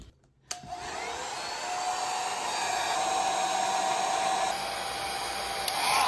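A blow dryer switches on with a click and runs as a steady, loud whooshing hum, its pitch shifting slightly near the end.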